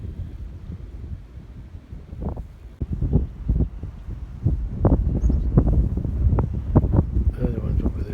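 Strong wind blowing outdoors on a warm afternoon, buffeting the microphone in loud, uneven gusts that build and rumble over several seconds.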